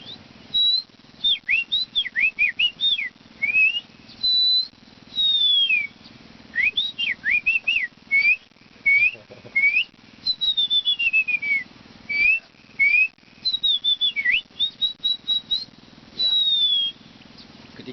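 A person whistles an imitation of an oriental magpie-robin's song: varied, bird-like rising and falling phrases and quick trills, repeated in bursts with short pauses, clear and close.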